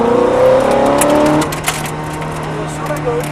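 A Ferrari F430 on a racetrack accelerates hard with a loud, rising engine note heard from close by, which then drops back to a lower steady drone. A voice talks over it.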